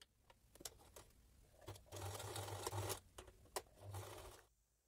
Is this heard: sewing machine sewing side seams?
yes